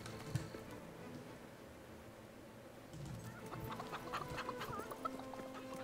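Character in a chicken costume in the video game Fable 3, with scattered clucks and fowl-like calls over a steady game ambience and light insect-like buzz, busier in the second half.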